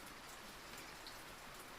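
Soothing rain falling steadily, a soft, even hiss of drops on surfaces with no breaks, moderately faint and continuous throughout.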